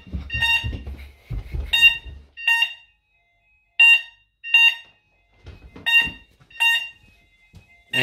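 Hochiki ESP addressable fire alarm sounding through a weekly test, loud repeating electronic tone bursts in an irregular on-off pattern, with talking and rumble under the first two seconds.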